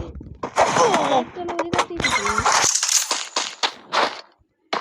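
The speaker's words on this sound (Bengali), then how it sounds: "কয়েকটা গুলি লাগাতে লাগাই দিচ্ছি ডাইরেক্ট পুরো জায়গায় লাগছে" Rapid bursts of video game gunfire crackle loudly in quick succession, with a voice talking over parts of it.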